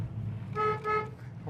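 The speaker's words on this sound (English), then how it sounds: "Horn works too." Horn of a 1966 Ford Mustang coupe sounds in two short honks, steady and tonal, over a low idling engine on fast idle.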